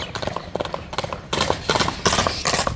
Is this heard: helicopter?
no